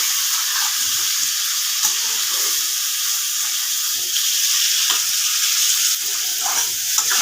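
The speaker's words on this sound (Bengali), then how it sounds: "চিংড়ি মাছটাকে একটু ভাজবো" Salted, turmeric-coated prawns fry in very hot oil with a steady, bright sizzle and hiss that runs the whole time, broken by a few small pops and spatters, close and loud with no talking.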